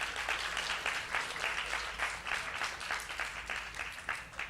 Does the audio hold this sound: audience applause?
yes